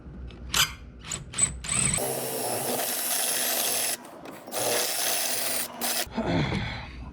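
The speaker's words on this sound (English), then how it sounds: "we're going to take our drill and drill it out" Power drill boring out a rivet on a Ducane BBQ grill, with several short whirring bursts followed by two long sustained drilling runs, loud and close, separated by brief pauses.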